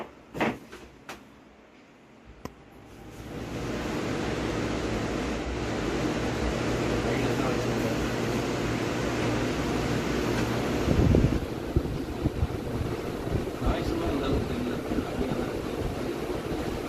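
A Kenstar 40 L room air cooler fan switches on after a few soft clicks and handling sounds, then settles into a steady, close whooshing hum of moving air with occasional light rattles.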